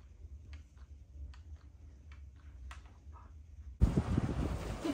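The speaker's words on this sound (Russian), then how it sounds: "Очень ветрено." Strong wind suddenly gusts across an outdoor microphone and roars loudly after a quieter stretch of faint ticking and low rumble.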